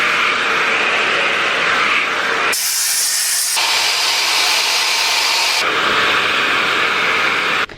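Hair dryer fitted with a diffuser, drying curly hair: a loud continuous airy whoosh that abruptly shifts tone several times, turning thinner and hissier then fuller again, close to the listener with no talk.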